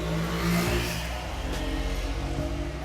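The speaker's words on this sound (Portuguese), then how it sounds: "Cara, veio outra moto." Motorcycle passing along a street, a revving engine that rises and then recedes, loud and close, with a steady low rumble beneath it.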